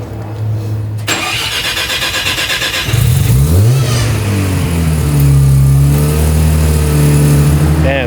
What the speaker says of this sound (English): He's pulling the car out right now because he needs an alignment